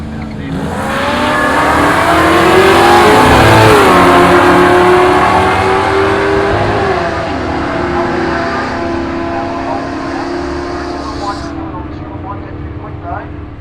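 Street-series drag racing cars roar down the strip at Willowbank, a loud rising engine howl that climbs through the gears and then fades as the cars pull away, with an announcer talking over it.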